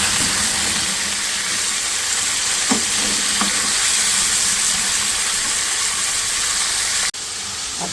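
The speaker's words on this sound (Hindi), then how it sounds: "चिकन को हम प्याज के साथ 2-3 मिनट भूनेंगे" Chicken pieces frying with onions in a pan for a desi-style Pakistani chicken achari, giving a loud, steady sizzle throughout with a few brief stirring clatters and a short break near the end.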